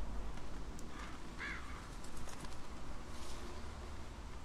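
A crow caws a few times in The Walking Dead video game, faint and distant over a steady hiss of ambient game noise.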